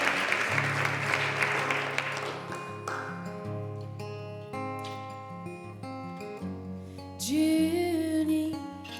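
Audience applause at a Unity Spiritual Center service, a dense patter of clapping in the opening seconds that fades under sustained piano or organ music, with a voice singing toward the end.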